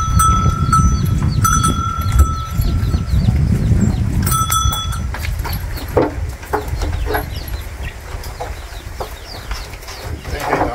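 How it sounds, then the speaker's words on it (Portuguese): A bell hung on cattle at a rural smallholding to scare away snakes gives bright metallic clanks, clustered in the first half and easing off, over steady farmyard noise with birds and other animals. "acho que é o barulho do sino, né?"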